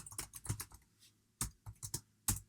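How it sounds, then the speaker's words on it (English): Clicky bursts of typing on a computer keyboard, quick clusters of keystrokes separated by a brief pause, close and clear with no talking. "There's no point sitting around typing everything out manually."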